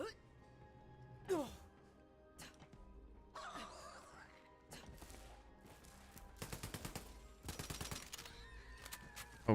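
SMG gunfire in Borderlands 3 comes in rapid bursts of close, sharp shots amid other game effects, with a voice talking in between.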